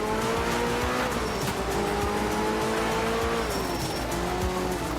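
A racing video game car's engine drones steadily with shifting revving tones and tire squeal through corners, loud and continuous for the whole stretch, with no talking over it.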